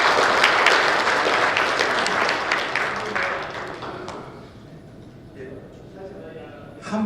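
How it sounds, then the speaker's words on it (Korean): Warm audience applause at a special lecture event, a loud dense burst of clapping that gradually thins and fades, with voices murmuring underneath as it dies down. "다시 한번 뜨거운 박수 부탁드리겠습니다."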